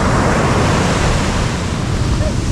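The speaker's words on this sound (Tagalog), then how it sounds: "Ang laki ng alon." Big ocean waves crash on a beach at San Felipe, Zambales, as a loud continuous roar of surf and wind noise filling the whole clip.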